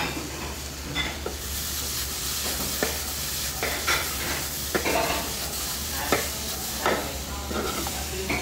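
Tofu, chayote and carrots being stir-fried in a pan, with a steady sizzle and repeated scraping stir strokes at close range, no talking.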